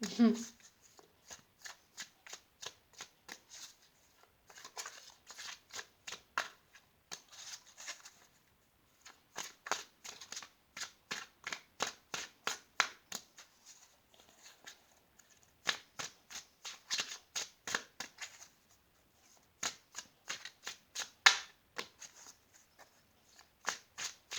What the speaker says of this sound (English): I've been shuffling for a while before this.